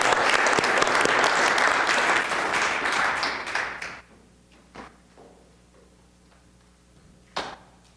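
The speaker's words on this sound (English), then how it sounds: "How about a round of applause for the Water Trust?" A city council chamber audience gives a full round of applause for about four seconds, then it stops abruptly, leaving a quiet room with a few scattered taps and knocks.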